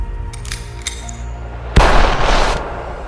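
A single loud gunshot booms out after a quiet, tonal lead-in, followed by a long rumbling decay.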